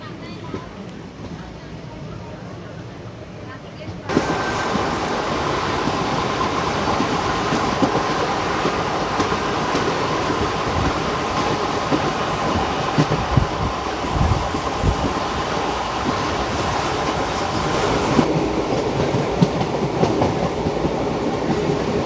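A Rajkot to Somnath passenger train rolls steadily along the rails, its loud continuous rumble and clickety-clack swelling after a quieter opening few seconds, with some voices faintly beneath the running noise.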